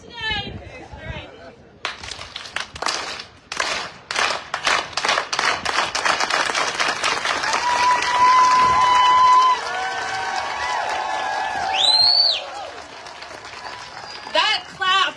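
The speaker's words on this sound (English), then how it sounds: "I want all of us today, right now, to do the union clap" At an International Women's Day protest rally in Palm Springs, a crowd claps together in a rising rhythmic union clap, separate claps at first building into sustained applause and cheering, with some voices and a whistle-like tone mixed in.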